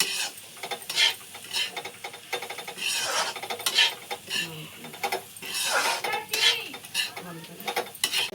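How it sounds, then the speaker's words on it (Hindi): Spatula scraping and stirring a gram flour and vegetable mixture as it roasts in a pan, a steady run of close raspy scrapes with brief pauses and a faint sizzle underneath. "तो मैं इसको जब तक ये लाल नहीं होगा तब तक मैं इसको भूनती रहूंगी।"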